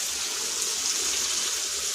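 Water pours steadily into a pot of simple homemade chicken curry, a continuous close rushing splash lasting the full two seconds with no talk.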